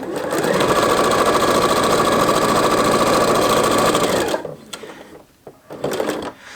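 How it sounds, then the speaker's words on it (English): A sewing machine with a quarter-inch foot chain piecing quilt pieces runs in a fast, steady, loud whir for about four seconds, then stops, leaving soft handling noises and a brief quieter burst. "and I'm going to sew."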